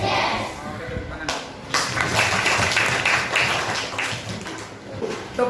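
A class of fifth-grade children clapping hands together in a classroom, sustained rhythmic clapping from many hands, loud and close, with voices calling out over it.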